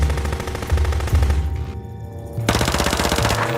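Rapid automatic gunfire in a wooded ambush, loud and close, rattling in dense sustained bursts that break off briefly around the middle before the firing resumes just as heavily.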